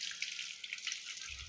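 Water splashes and trickles steadily while feet are washed during wudu ablution, a close, continuous hiss of running and dripping water with a dull thud at the end.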